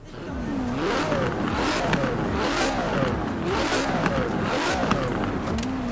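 Tuned car engine in the racing game Forza Horizon 4 revs up and down continuously, its pitch rising and falling in repeated sweeps, loud and close, with a voice talking faintly underneath.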